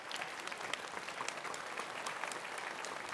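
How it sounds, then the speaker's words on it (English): Audience applause at a medical talk on multiple sclerosis therapies, a dense, even patter of many hands clapping steadily in a hall, somewhat distant, with no voices. "I would like everybody to give them a round of applause and say thank you."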